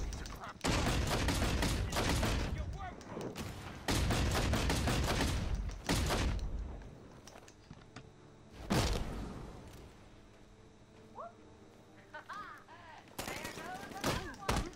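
Gunfire in the video game Batman: Arkham Knight: loud bursts of rapid automatic fire in several long volleys, separated by quieter gaps with thuds and scattered game effects.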